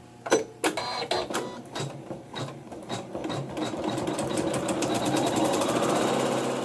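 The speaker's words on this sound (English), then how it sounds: "we're going to stitch some embroidery" A home embroidery machine stitching a quilt block design starts with a few separate needle thumps, then settles into a rapid, continuous mechanical chatter that grows steadier and louder, with no voices.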